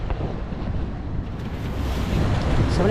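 Gusty, typhoon-like wind sweeps over the sea during a boat trip from Mindoro to Navotas, blasting the microphone with a steady roar that grows louder toward the end amid wave wash.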